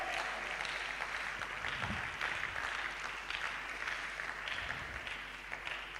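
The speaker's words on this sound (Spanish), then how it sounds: "Dale un aplauso fuerte al Señor" A church congregation claps during a sermon, a faint, continuous patter of applause held at a low, even level throughout with a steady background hum.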